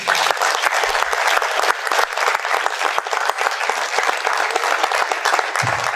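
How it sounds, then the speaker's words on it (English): Loud, sustained applause from an audience of families and students at a high school letter-of-intent signing event, steady and dense throughout the clip. "how about one more big round of applause for all three of them and their families?"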